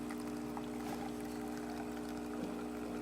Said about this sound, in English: And as you can see, coffee coming out.